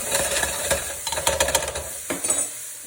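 Onions softening in a hot pan for spinach pie, a close sizzle under a run of rapid clattering stirs and scrapes of a utensil against the pan, with no talking.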